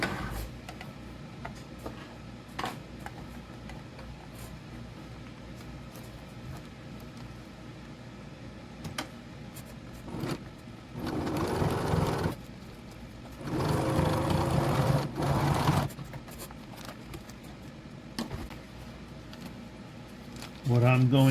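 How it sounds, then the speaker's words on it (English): Sewing machine stitching rows on a homemade rock sack, heard in two loud bursts of running stitches around the middle of the clip, with quieter handling and faint background noise in between. "And I'll put another row of stitching right in there."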